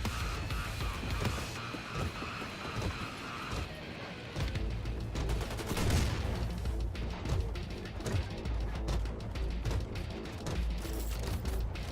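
Dense, continuous gunfire and crashing impacts in Wolfenstein II: The New Colossus, with rapid bursts and heavy thuds layered over a loud, busy game mix; no speech.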